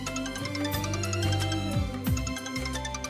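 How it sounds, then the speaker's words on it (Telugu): An electronic ringtone melody plays loudly and steadily, a repeating musical phone ring with no voices over it. "ఫోన్ వచ్చింది."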